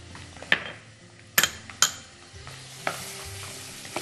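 A spoon stirs chicken and vegetable soup in a pot, giving a few sharp metallic clanks against the rim and scraping swirls over a soft background bubbling. It is close and intermittent, with no talk.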